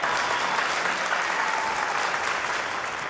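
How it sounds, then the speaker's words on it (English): Steady applause from an audience at a public conversation event with a city mayor, a dense, even clapping that holds at a moderate level for about three seconds and then eases slightly, with no talking over it. "Why don't we give her another round of applause?"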